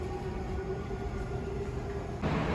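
Steady low rumble of a Dubai Metro train running, with a faint tonal hum and a louder burst of rushing noise near the end.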